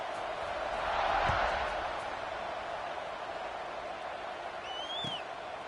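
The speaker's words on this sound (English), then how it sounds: "this crowd is buzzing after that last score" A stadium crowd at a football game keeps up a steady, distant buzzing roar that swells slightly early on, with a brief whistle-like tone near the end.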